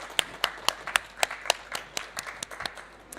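Seminar audience claps for an introduction and new speakers, a thin scattering of about a dozen separate hand claps in an uneven rhythm, fairly close and moderately loud, with no talk over them.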